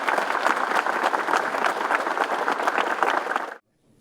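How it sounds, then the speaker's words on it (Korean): Sustained, loud applause from about a hundred fellow comedians honouring a late comedy legend at his funeral, a dense steady roar of clapping that cuts off abruptly into silence. "선배님께 큰 박수 한번 드리는 시간 갖도록 하겠습니다."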